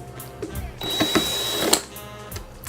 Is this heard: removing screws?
yes